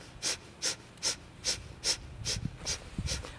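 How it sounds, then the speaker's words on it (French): Breath of fire during a yoga twist: eight or nine sharp, forceful nasal exhalations in a steady quick rhythm, each a short loud puff of air, with quiet rustling between them. "Expire, on twist, respiration du feu."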